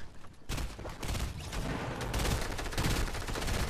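Rapid gunfire from a shooter video game, a dense, continuous run of automatic shots that stays loud throughout, with no talking over it.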